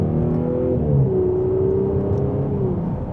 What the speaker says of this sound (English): And a mild acceleration, we are up to speed.